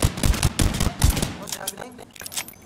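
Rapid automatic gunfire from the shooter video game The Division 2, loud dense bursts that thin out toward the end, with voices talking over it.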